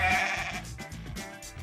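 Goat bleats in a loud, wavering cry that fades into a couple of shorter, weaker bleats.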